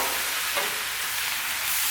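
Cabbage, bacon and sausage fry on a Blackstone griddle with a steady, close, full hiss of sizzling that runs without a break, with stirring scrapes mixed in and no voices.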